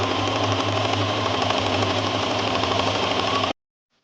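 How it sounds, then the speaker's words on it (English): A sewing machine stitches fabric in a steady, fast mechanical whir with rhythmic needle clatter, running close and evenly for several seconds before stopping abruptly. "And sew it down."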